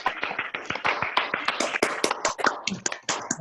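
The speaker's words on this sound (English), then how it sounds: "please give a round of applause for our candidates today so that they might hear" Applause from participants in an online virtual meeting: dense, uneven clapping and tapping throughout, moderately loud, with overlapping hand claps and no talking.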